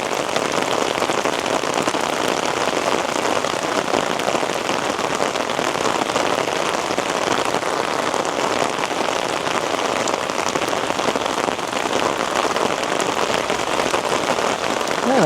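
Torrential rain pours down on a street in downtown Toronto, a dense, unbroken roar of drops hitting pavement and surfaces close by, loud and steady throughout.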